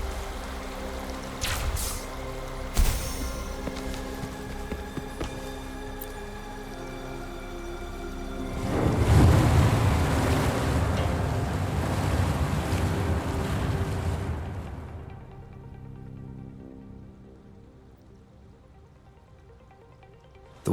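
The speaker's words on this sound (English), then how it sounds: "The water level just dropped again." Water level dropping in the Wuthering Waves game: a loud rushing, roaring surge of water that swells, holds for several seconds and then fades into a low ambient drone, with no voices.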